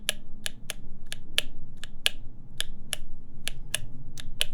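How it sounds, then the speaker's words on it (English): A custom CAKE60 mechanical keyboard clacks under typing, sharp distinct key strikes arriving in an uneven rhythm, about a dozen crisp clicks close to the microphone over a low background hum. "Sounds like a keyboard still."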